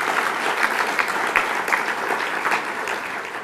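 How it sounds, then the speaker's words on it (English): An audience at a technology awards ceremony claps steadily for award winners, a sustained, even burst of applause filling the room. "Another round of applause for you guys."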